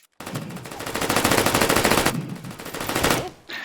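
A PDW submachine gun in the VR shooter H3VR rips off two long, rapid full-auto bursts, loud and close, separated by a brief pause, with a short sharp sound at the end.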